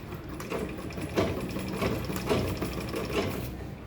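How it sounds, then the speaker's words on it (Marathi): Sewing machine stitching along both sides of a fabric bag, a close, steady rapid mechanical chatter with slight surges in rhythm throughout, running alone without voices. "आता आपल्याला हे दोन्ही बाजू स्टिच करून घेऊ आपण."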